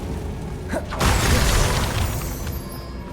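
A Confringo blast spell in Hogwarts Legacy, a sharp shattering burst that hits once and then rumbles and crackles as it fades, fairly loud against game background noise.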